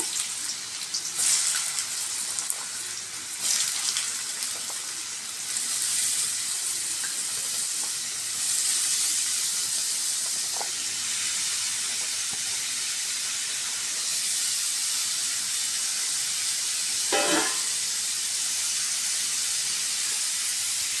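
Chopped radish frying in hot oil, a continuous loud sizzle and steamy hiss lasting throughout, with a brief sharper crackle near the end.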